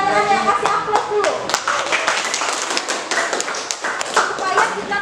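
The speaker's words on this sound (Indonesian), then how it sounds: "Kasih aplaus dulu." A classroom audience of students at a chemistry teaching session claps in a steady run of close, fairly loud applause lasting the whole stretch, with voices mixed in beneath.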